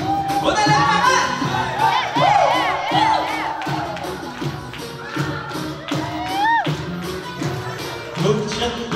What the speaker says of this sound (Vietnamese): Vỗ tay lên các bạn.